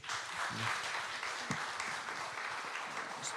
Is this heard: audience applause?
yes